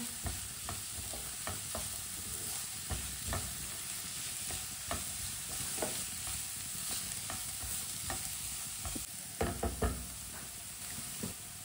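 Kebab mixture fries steadily in a pan, with a continuous close sizzle and repeated light knocks and scrapes of a spoon stirring through it, no voices.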